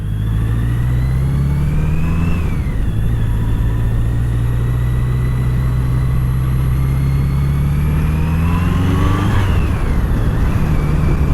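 A steady, smooth BMW K100 motorcycle engine hum with the pitch rising and falling as it revs, loud and close, with no talking.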